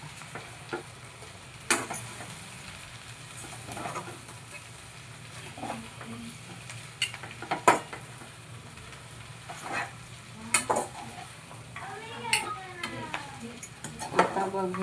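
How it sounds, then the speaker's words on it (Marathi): A spoon stirs food in a pan on a home stove, with scattered scraping and clinking taps against the metal over a faint low sizzle, close and fairly quiet, while someone talks between strokes. "आता दुसरा 1 चमचा घ्यावा लागतो मला आणि हलवायचं."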